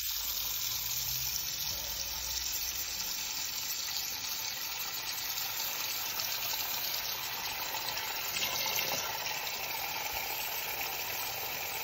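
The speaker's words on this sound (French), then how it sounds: "On fait couler de l'eau très chaude, le plus chaud possible." Very hot tap water pours steadily into a plugged kitchen sink, a continuous close hiss and splash that holds even throughout.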